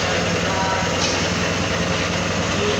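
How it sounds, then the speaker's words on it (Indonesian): A small motorcycle engine idles just after starting, a dense, steady mechanical rumble and hiss heard close and loud without a break, with no talking. "Lalu nyalakan kunci kontak dan nyalakan mesin."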